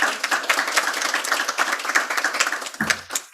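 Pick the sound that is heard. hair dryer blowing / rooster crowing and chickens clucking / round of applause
round of applause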